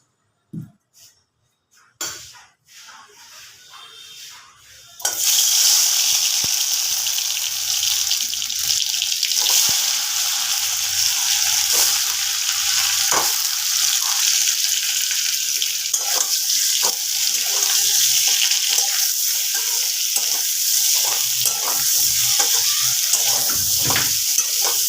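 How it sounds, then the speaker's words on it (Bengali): Potatoes go into hot oil in a kadai for aloo dum, with a few sparse clicks first, then a loud, steady sizzle full of crackling pops running close up without speech. "এবার আমি আলুগুলোকে তেলের মধ্যে দিয়ে ভেজে নেব।"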